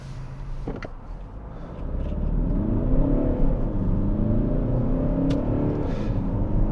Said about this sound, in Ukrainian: Зараз ми зупинимось, проїдуть машини.